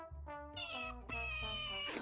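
A cat meows in a single loud, drawn-out call that rises and wavers, then carries into a second strained, yowling stretch, used as a VR Chat meme sound.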